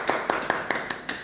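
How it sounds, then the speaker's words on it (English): A small round of clapping, six soft separate claps spaced evenly over a little more than a second, faint and close, with no talk over it. "a huge round of applause for the gentleman there"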